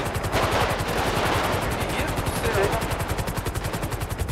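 Rapid automatic gunfire in GTA 5, a fast, even stream of shots running the whole time at steady loudness, with a brief dip partway and faint chatter underneath.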